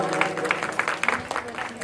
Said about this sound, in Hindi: एक बार जोरदार तालियों से स्वागत करें हमारी बड़ी बहन का